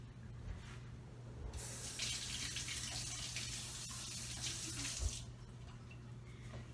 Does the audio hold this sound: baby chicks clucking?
no